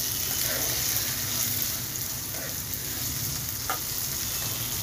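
Sprouted moth beans sauté in a pan with a soft, steady sizzle and faint occasional stirring scrapes, quiet and unbroken throughout.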